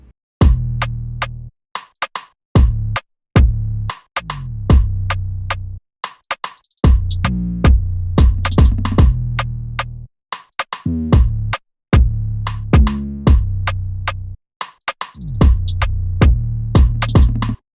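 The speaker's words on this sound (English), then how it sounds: "I grabbed the sub bass, and it sounds like this." A deep, bouncy sub bass line in an Afrobeat track plays short punchy notes with gaps between phrases, alongside sharp clicky percussion hits, with no voices.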